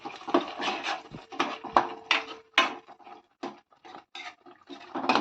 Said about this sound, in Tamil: இது ஒரு மூடி போட்டு மூடிக்கலாம்.